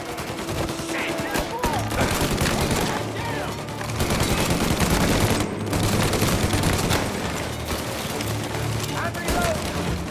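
Sustained gunfire from the Mafia Definitive Edition shooter, dense volleys of rattling shots and booms in a corridor firefight, continuous and loud throughout the ten seconds.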